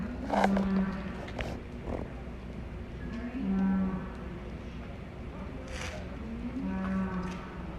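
Cattle mooing on a farm, three drawn-out low moos spaced a few seconds apart over a steady background of livestock and distant ambient noise, with no talking.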